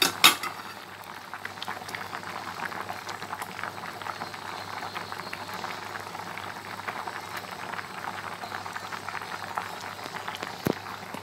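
White rice boils in a pot, a steady bubbling and simmering hiss throughout, with a few clinks of a utensil against the pot at the start and end.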